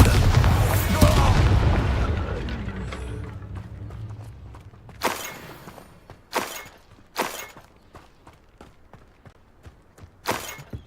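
An Expulso blasting spell in Hogwarts Legacy sets off a loud, booming explosion with a long rumbling decay, followed by several sharp cracking impacts spaced apart.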